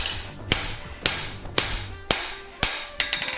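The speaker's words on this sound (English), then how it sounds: "And then we'll take our regular hand hammer," Regular hand hammer striking hot steel over a swage block on an anvil while forging a hammer eye punch, five evenly spaced ringing metallic blows about half a second apart, then a few lighter taps, close and loud with no talk.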